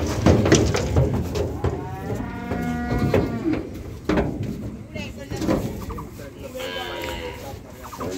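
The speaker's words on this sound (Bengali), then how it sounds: "সবগুলো লাল গরু, সব লাল।" Red cows and calves at a cattle market in Sylhet, several long low moos rising out of farmyard noise, with hens clucking nearby and people talking in the background.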